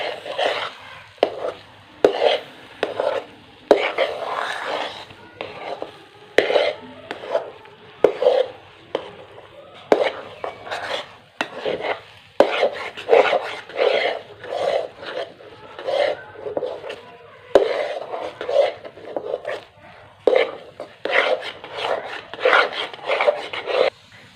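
Repeated rasping, scraping strokes of a spoon mixing stiff sooji barfi with almonds, in a steady uneven rhythm of short bursts, close and fairly loud, with no talk.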